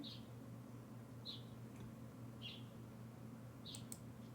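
Faint bird chirps in the video game Genshin Impact, four or so short high calls spaced about a second apart, over a steady low background hum.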